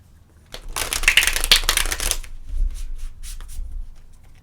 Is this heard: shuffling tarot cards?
yes